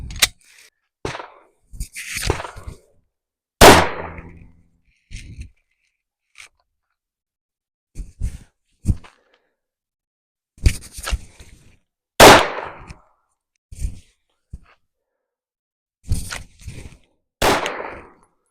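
Live-fire handgun shots ring out at a shooting range in scattered sharp cracks, some in quick pairs and clusters, separated by silent gaps, with faint voices between.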